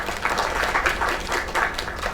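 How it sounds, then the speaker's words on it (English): Crowd applause at a talent show in the video game Lake, a steady wash of clapping filling the short stretch without a break. "Another round of applause"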